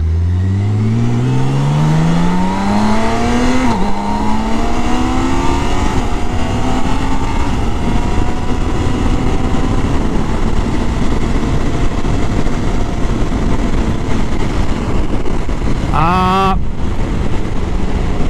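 A 2023 BMW K1600 B motorcycle accelerates hard, its engine note climbing through the gears with rising pitch and brief drops at shifts, loud and close with strong wind rush throughout.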